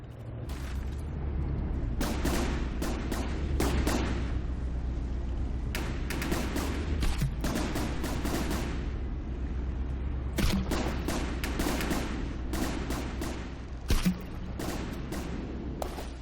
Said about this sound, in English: The cram cannons might look good, but they're pretty ineffective